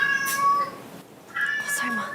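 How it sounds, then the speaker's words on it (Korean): Two drawn-out cat meows with a short gap between them, close and fairly loud, the second rising then falling, at an indoor birthday party. "어디서 이 고양이 소리가 나지?"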